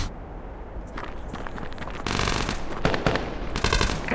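Rapid gunfire bursts in the VR shooter Tactical Assault VR, a dense crackle of shots that grows louder and busier partway through, heard close over steady background game noise.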